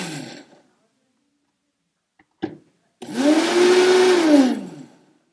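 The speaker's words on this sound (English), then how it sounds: "So with the Vitamix, you can pulse it." A Vitamix blender pulses walnuts, salt and oat flour: a short burst first, then a loud, close whirring run of about two seconds that climbs and falls in pitch before cutting off into silence.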